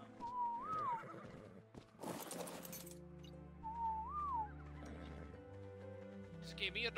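Horses in the video game ARK give two distinct whinnies a few seconds apart over a steady low background, with a burst of noise and scattered clatter in between.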